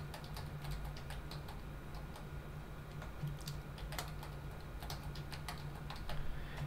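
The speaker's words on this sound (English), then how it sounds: "we're going to go ahead and type in our email address. And we'll go ahead and type in a password." Email address and password being typed on a computer keyboard, a quiet, close, steady run of irregular key clicks with a faint hum underneath.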